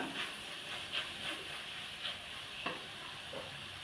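Spice powder is stirred into ridge gourd curry cooking in a pan, giving a faint, steady sizzle and hiss with soft, intermittent scraping strokes of the spoon, heard alone.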